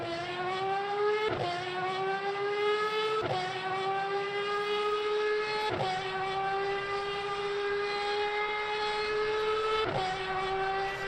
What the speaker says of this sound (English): Listen to the audio when they lift off this car, the crackling.